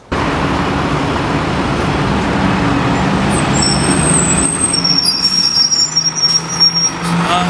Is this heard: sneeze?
no